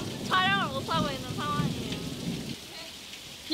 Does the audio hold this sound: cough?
no